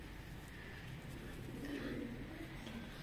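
A pigeon kept by a hobbyist fancier coos softly in a low, rolling call against faint background hum, quiet and close for a few seconds.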